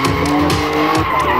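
BMW E30 drifting on a race track in a Latvian drift series round, tires squealing loudly and continuously with a roaring engine close by.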